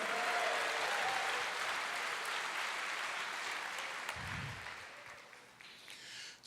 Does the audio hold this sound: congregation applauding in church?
yes